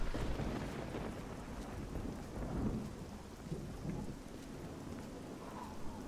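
Steady rain falls in the video game Oblivion with a low, rolling thunder rumble underneath, continuous and moderately loud.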